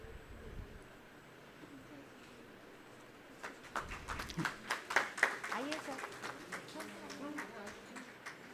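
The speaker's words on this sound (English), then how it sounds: "Please give them a huge round of applause" Applause from a seminar audience at a felicitation ceremony, starting a few seconds in as scattered, fairly faint claps that build into steady clapping from a crowd heard at a distance.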